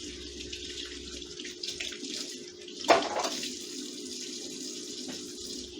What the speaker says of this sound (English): Rinse it. And send it off to rinse. To drain.